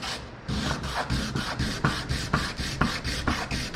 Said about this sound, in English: I'm just gonna rough this up so it all glows.